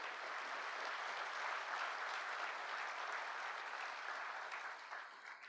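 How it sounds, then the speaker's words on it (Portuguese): A crowd at a government signing ceremony applauds the police and security forces of the Federal District, a continuous, fairly distant wash of clapping that stays even and fades slightly at the close. "uma salva de palmas às polícias do DF"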